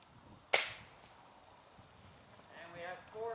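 A Roebel B2-2 .22 caliber air rifle fires a single sharp, loud shot, a brief crack followed by quiet room tone and faint rustling.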